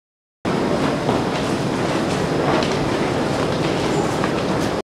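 A train rolls through Gampaha railway station in Sri Lanka with a loud, continuous rumble and clatter of wheels on rails, close by and steady, with no voices.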